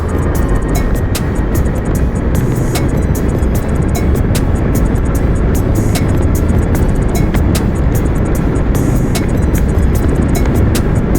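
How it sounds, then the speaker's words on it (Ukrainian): A VOLTO Cruise 20 electric scooter pulls away hard in third gear, heard as a loud, constant rush of wind and road noise, close and unbroken, with no voices over it. "Перемикаємося на третю, даємо газу."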